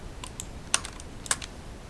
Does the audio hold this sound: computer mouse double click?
yes